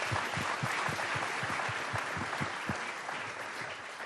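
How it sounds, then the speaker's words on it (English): Sustained audience applause at the UN Youth Climate Summit, a dense wash of many hands clapping with a steady rhythm, loud and close, easing slightly toward the end. "You can always cheer for that."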